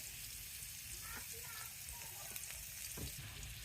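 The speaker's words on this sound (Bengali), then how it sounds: "এখন মরিচ একটু হালকা ব্রাউন হওয়া পর্যন্ত নাড়তে থাকবো।" Onion, garlic and chili frying in a little soybean oil on an outdoor clay stove, a steady soft sizzle with occasional stirring scrapes and no one talking.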